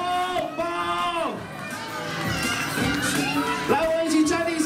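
A crowd of mostly children at a shopping mall event greeting a pig mascot, loud excited shouts and cheers rising and overlapping, with voices calling out throughout.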